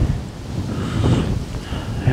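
Strong wind buffeting a microphone outdoors beside water, a continuous rough rumble with gusty swells across the short stretch, with no clear talk over it.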